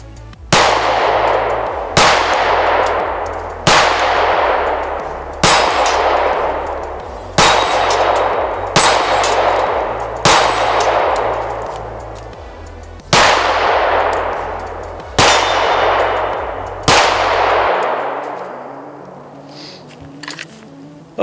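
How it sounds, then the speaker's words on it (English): A Sig P365XL pistol fires at steel targets, roughly eleven sharp shots at a steady spaced rhythm, each followed by a ringing metallic clang from the steel, then quiet. "I'll go ahead and send it again."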